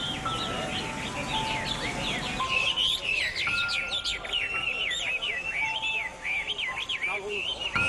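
Caged birds chirp in a park at dawn, sending out a busy run of high, warbling tweets and whistles that keeps going over a soft low background.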